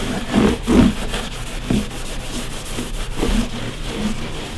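A cloth rubbing excess cleaner off a rosewood acoustic guitar fretboard, producing close, dry scrubbing strokes in an irregular back-and-forth rhythm.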